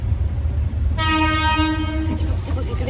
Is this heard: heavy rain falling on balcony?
no